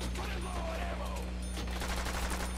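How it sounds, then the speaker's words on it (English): A fast-firing pistol in a Call of Duty custom zombies map called Cheese Cube: a rapid run of close, sharp shots over a steady low game drone, with faint voices in the background. "That's a really fast pistol."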